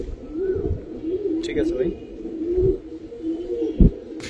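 Giribaz pigeons, including red birds, coo in steady low throaty rolls at a pigeon sale, with someone talking briefly over them.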